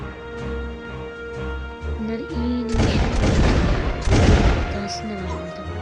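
Musket volleys in the video game Muskets of America 2, a burst of loud booming gunfire arriving mid-clip after game music and repeating as a second blast, with a voice talking over it.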